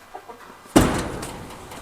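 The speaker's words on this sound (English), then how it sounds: "we have our white silky rooster with our brown hen and our black silky rooster" A white silkie rooster, a black silkie rooster and a brown hen in a coop make a few faint soft clucks, then a sudden louder burst of fowl noise and rustling nearby.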